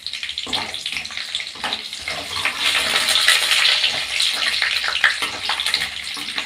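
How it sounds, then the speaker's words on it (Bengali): Mung dal fries in a pan, giving a dense, steady rushing hiss that swells in the middle and runs on without a break. "ভেজে নেবো একটু লাল করে মুগ ডালটা ভেজে নিতে হবে"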